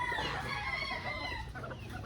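A flock of chickens clucking and a rooster crowing, steady and fairly close, with continuous overlapping calls and no talking.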